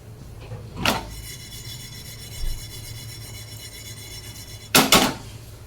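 Dry-roasted sesame seeds and cashews being ground, with a steady rough grinding hum broken by two loud rasping bursts, one early and one near the end, close and without voices.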